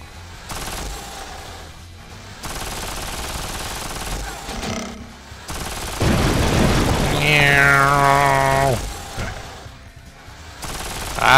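Rapid machine-gun bursts ring out in the video game Will Rock, sustained and loud, with a brief booming blast midway and a voice talking over parts of the firing.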